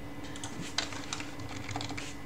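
Keys clatter on a computer keyboard in a short run of uneven taps, close and moderately loud, with no talk.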